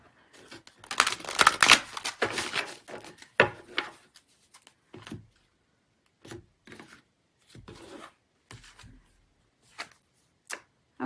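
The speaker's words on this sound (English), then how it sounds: "One more good shuffle." Tarot cards being shuffled by hand, a dense burst of riffling and rubbing followed by a run of short, separate card taps and slides with quiet gaps between them, close and without talk.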